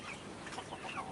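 Chickens clucking softly on a farm, with a few low, scattered clucks and calls heard at moderate distance and no talk over them.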